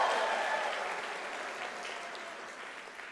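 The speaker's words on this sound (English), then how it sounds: "Can you give yourself a round of applause?" Steady round of applause from graduates and guests at a university autumn graduation ceremony in South Africa, a dense continuous patter filling the hall and slowly tapering over a few seconds, with no voices on top.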